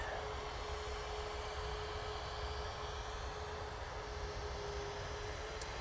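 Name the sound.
KLM Boeing 737 arriving from Amsterdam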